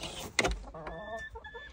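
Chickens in a homestead coop give a few short clucks and squawks, close by and moderately loud, with a brief louder burst near the start.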